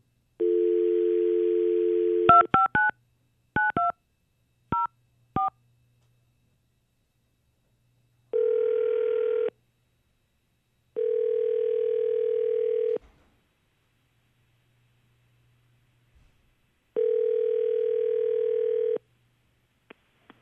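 A phone call being placed: a steady dial tone sounds, then a quick run of touch-tone keypad beeps, followed by several long ringback tones separated by silence, clear and alone with no talking.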